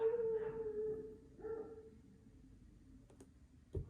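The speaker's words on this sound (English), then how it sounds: "As I was partly interrupted with a dog howling and some background noise" A dog howls in the background with a drawn-out wavering tone that fades, followed by a few faint clicks and a soft knock, with no talking.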